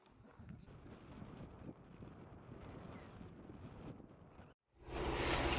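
Gusty wind in Death Valley buffets the microphone with low rumbling, then cuts out briefly before a harsher, louder blast of wind noise at the end.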